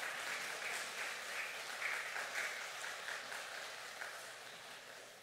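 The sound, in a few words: church congregation applauding to welcome pastor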